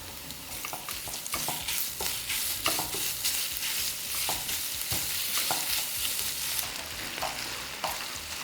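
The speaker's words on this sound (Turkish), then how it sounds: "Soğanları pembeleşinceye kadar bu şekilde kavurmaya devam ediyorum." Onions and minced meat frying in a pan, a continuous close sizzle broken by repeated spatula scrapes and stirring knocks throughout.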